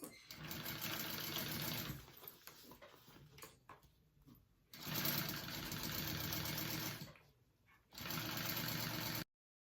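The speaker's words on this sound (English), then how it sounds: "I'm gonna sew along that at a 3/8 inch seam allowance." A sewing machine stitches a handbag seam at a 3/8 inch seam allowance, running in steady, close bursts: a long stretch, a brief pause with handling noise, another long run, then a final short burst.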